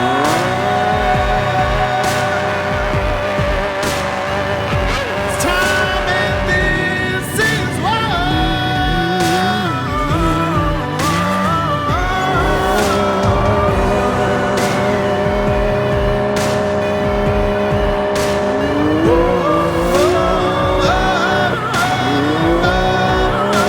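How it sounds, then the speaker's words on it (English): Off-road UTVs racing, with loud, continuous engine revving and shifting pitches as machines accelerate and pass, along with occasional sharp clatter, sustained throughout with no speech. "The UTVs race first"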